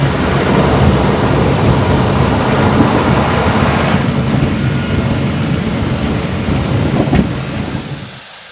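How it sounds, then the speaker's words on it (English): Small aircraft landing on a Guyana airstrip, a loud continuous engine and wind roar heard from inside, holding steady and then dropping off sharply at the end. "Landing on Guyana Airstrip, Ted is warmly welcomed in true Saramacan sp"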